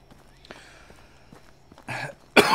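Two short, loud, close coughs near the end, the second harsher than the first, following quiet rustling and faint movement noises.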